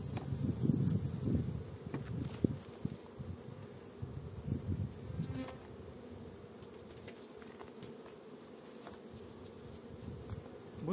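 Honey bees buzzing around an open hive during a honey harvest, a dense continuous drone close by with faint rustling and handling noises, no talking.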